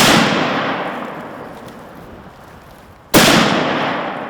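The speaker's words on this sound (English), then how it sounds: "I wanted to check my rifle and make sure it was still on the money." Two sharp, loud 7mm rifle shots firing Swift 150 grain Scirocco bullets at a range, each cracking out and then ringing off in a long fading echo.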